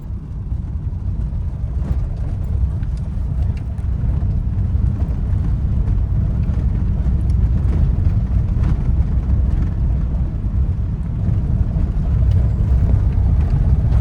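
A car drives slowly in gear during a driving lesson on a road with a tractor ahead, its engine and road rumble a steady loud drone inside the cabin with no talk.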